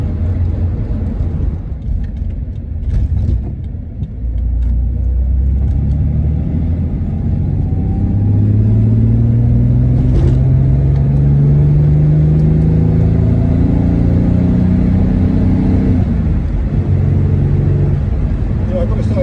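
A 1963 Jaguar Mark 2 fitted with a CMC High Torque 4.2 engine conversion on the road: a steady, loud low engine rumble with road noise that swells as the car accelerates partway through.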